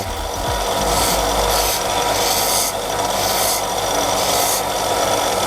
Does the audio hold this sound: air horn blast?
no